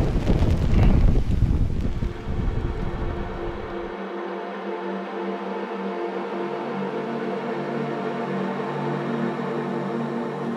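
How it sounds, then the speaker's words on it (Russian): Strong wind buffets the microphone with loud, rumbling gusts for the first few seconds, then settles into a steadier muffled rush, with no talk. "потому что ветер сумасшедший."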